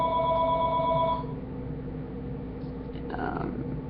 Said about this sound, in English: don't know why my phone is ringing.